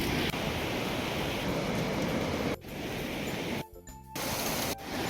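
A small waterfall on the Pindari Glacier trek gives a broad, steady roar of falling water nearby, briefly dipping with a few short dropouts and wind buffets toward the end.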